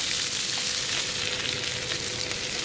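Taki fish frying in hot oil, a steady, dense sizzle that holds evenly throughout at close range with no talking.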